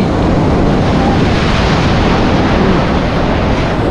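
Loud, continuous roar of sea surf breaking close by at Puri beach, a dense wash of churning water and wind with no voices.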